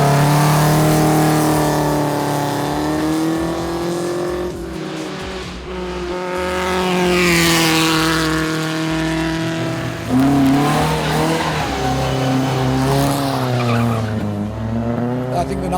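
A Renault Twingo RS Gordini race car launches at a hillclimb, its engine revving hard with rising gear-change sweeps and tyre squeal, loud and close, while a commentator talks over it.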